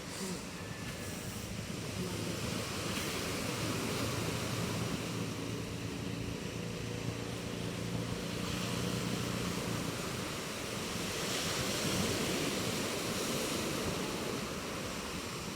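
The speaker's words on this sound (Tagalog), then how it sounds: "Medyo kalmado na ngayon ang dagat." Fairly calm sea waves wash steadily under a southwest monsoon wind, a continuous surf rush with some wind noise on the microphone and nobody speaking.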